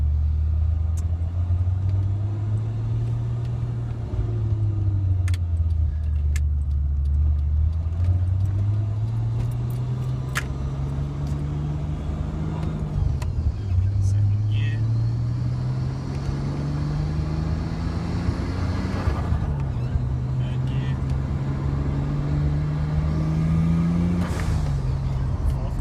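A car engine drones as the car is driven in first gear, its pitch climbing and dropping repeatedly as it revs up and eases off, steady and close throughout.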